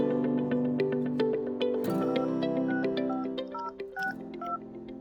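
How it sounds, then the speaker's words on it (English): Keypad tones from a Snom desk phone as a number is dialed, a quick run of distinct beeps at uneven pitches, loud and close, with no talking. "You just dial the number"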